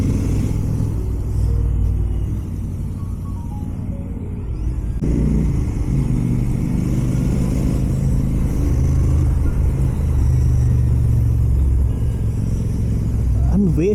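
Royal Enfield GT 650 motorcycles ride together at night. A close, steady engine rumble rises and falls in pitch as the throttle changes, loud and continuous throughout.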